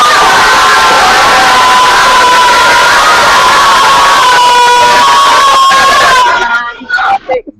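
Schoolchildren in their classrooms cheer and shout together in a loud, dense burst of high-pitched voices that holds for several seconds, then breaks off abruptly into a few scattered trailing shouts.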